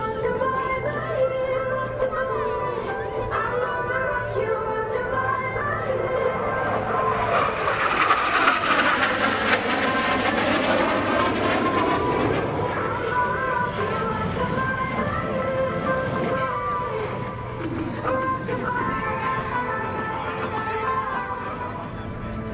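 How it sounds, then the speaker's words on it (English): An F-16CJ Fighting Falcon roars past in a knife-edge pass at a Naval Air Station Oceana airshow, its loud jet noise swelling to a peak mid-pass with a falling pitch sweep, then trailing off, with crowd murmur beneath. "And now, from the right is the F-16 in the knife edge pass."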